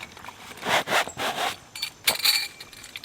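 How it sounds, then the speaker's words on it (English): A plastic zipper with a plastic pull being unzipped on a fire pit stand's carry bag, heard as several short, close rasping pulls with brief pauses between them, with no talk. "As you open this up, it will bend under the force of unzipping this."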